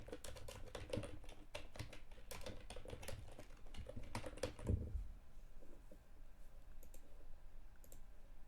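Rapid keystrokes on a computer keyboard while coding a space station game in Godot, a dense clattering burst of clicks for about five seconds, then sparser scattered taps close to the microphone.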